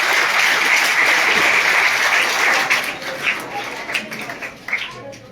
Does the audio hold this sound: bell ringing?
no